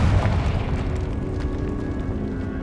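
Spell explosion from the Hogwarts Legacy video game: a loud, deep boom with a rumbling low-end burst that stays dense and sustained for a couple of seconds, with no talking.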